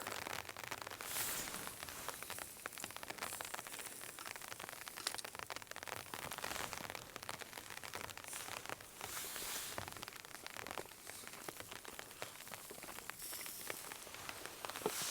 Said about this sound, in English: The rain's just been like falling steadily.